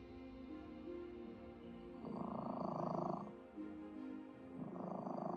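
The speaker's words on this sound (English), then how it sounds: "Oh, it's purring." A cat in Skyrim purrs softly in low, rumbling bursts, two or three swells of purring that come and go, faint and close, with no one talking over it.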